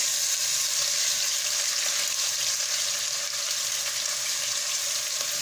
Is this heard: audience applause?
no